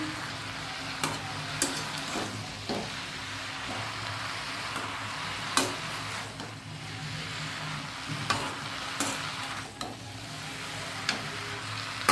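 Malabar spinach (pui saag) fries in a pan while being stirred, a soft continuous sizzle broken by regular scraping clicks of the spatula, fairly quiet and close.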